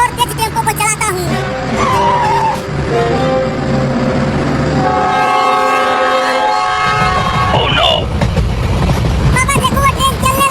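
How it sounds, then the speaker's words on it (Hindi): A cartoon train pulls away, sounding drawn-out horn toots over rumbling, clattering wheels, all loud and close, with the horn swelling in the middle before the rolling noise carries on. "पापा देखो वो ट्रेन चलने लगी।"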